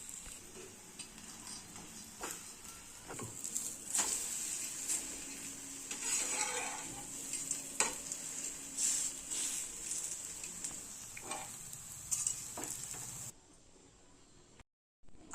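An omelette with a dosa laid on top fries gently in a pan over a low flame, giving a faint steady sizzle with occasional light taps and scrapes, no talking, ending in near silence.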